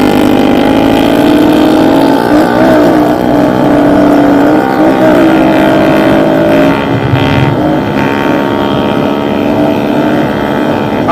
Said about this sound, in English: I can't hear my bike over Billy's.